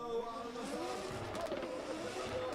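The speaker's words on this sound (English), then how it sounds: "All the pops and bangs down the straights, he throws it in, dragging a handbrake just to get that car settled" A Nissan S13 drift car launches into a qualifying run at a drift championship round in Oman, engine roaring and popping at a distance with some tyre noise, under a continuous commentator voice.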